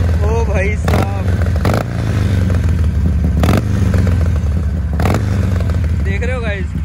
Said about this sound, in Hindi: सबसे पहले इसको स्टार्ट करते हैं और आपको मैं भी सुनाता हूँ इसकी साउंड।